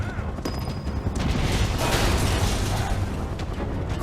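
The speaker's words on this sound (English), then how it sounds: "Open fire! Shoot to kill!" Gunfire in the video game Final Fantasy 7 Remake comes as a dense, rumbling fusillade of shots and bursts that stays steady and loud throughout.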